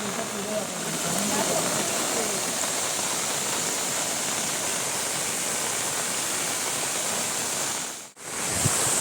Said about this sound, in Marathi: पाऊस पण लागतं आणि धबधबे वगैरे सगळे चालू झाले आहेत